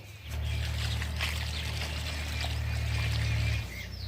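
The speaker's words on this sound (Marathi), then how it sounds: "आता याला येणार पाणी देते मी" Steady water pouring and splashing onto garden soil and plant leaves, continuous for a few seconds before tapering off, with faint outdoor ambience.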